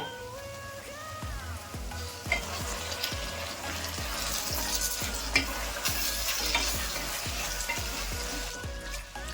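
Capsicum and ground chili paste frying in oil in a pan, a continuous crackling sizzle broken by a regular series of scraping stirs, moderately close and without any voices.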